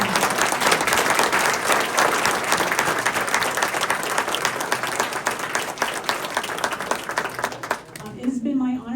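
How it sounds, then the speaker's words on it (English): An audience at a city council ward candidates forum applauds in a dense, sustained burst of clapping that fades near the end as a voice begins to speak. "Can we please give them a round of applause?"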